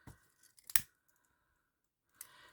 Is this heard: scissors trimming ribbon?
yes